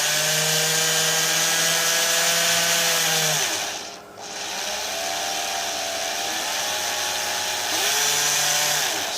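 A small drill motor whirs steadily at a high pitch, winding down briefly and then spinning back up, loud and close with no voices.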